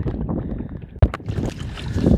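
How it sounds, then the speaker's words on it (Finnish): Wind gusts buffet the microphone on a fishing boat out on a lake on a hot summer day, a rough, rumbling rush with a sharp thump partway through and rising again toward the end. "nyt rupes uudestaan tuulemaan"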